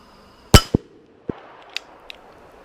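A SCCY CPX-3 .380 pistol fired outdoors: one sharp loud shot followed by a quick second report, then a few fainter clinks and a metallic clack.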